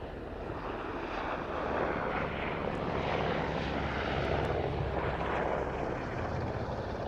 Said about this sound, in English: But running in from our right, the Augusta Westland Merlin